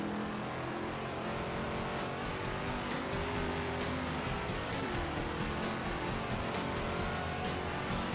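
A Ford Mustang lapping Road America in the Assetto Corsa racing sim, its engine a steady, dense, loud drone with continuous revving throughout and no talking.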